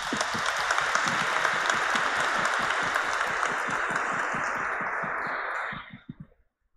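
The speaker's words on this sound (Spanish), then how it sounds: "A ellas, a su vez, les mandamos un fuerte aplauso." A congregation inside a cathedral at a Lenten Sunday Mass applauds for expectant mothers, with steady, rhythmic clapping that carries on for several seconds before stopping, leaving a brief reverberant tail and a few last claps.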